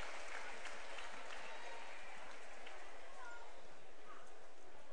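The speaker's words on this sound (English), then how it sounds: "gets a good hand here from the crowd at Hamilton Southeastern" Crowd in a high school basketball gym applauding a player after a hard fall, sustained, dense clapping filling the room throughout, with a commentator talking over it.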